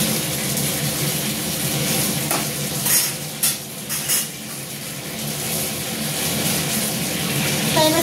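Fried lentil fritters drop into a pot of simmering curry gravy, giving a loud steady sizzle and bubble with a few clinks of a utensil against the pot.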